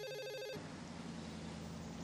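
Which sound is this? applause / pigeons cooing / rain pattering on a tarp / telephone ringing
telephone ringing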